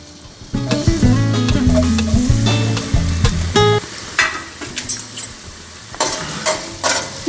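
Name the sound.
chopped onion frying in oil in a pan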